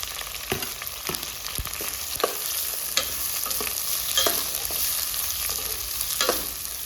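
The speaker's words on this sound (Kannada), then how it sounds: "ಇದರೊಳಗಡೆ ಮೆಣಸಿನ್ಕಾಯಿ ಮತ್ತು ಈರುಳ್ಳಿನ ಹಾಕ್ಕೊಂಡು ನೀಟಾಗಿ ಫ್ರೈ ಮಾಡ್ಕೊಳ್ತೀವಿ." Onions and green chillies fry with curry leaves in a pan, a steady close sizzle broken by repeated scraping and tapping strokes of a spatula stirring the pan.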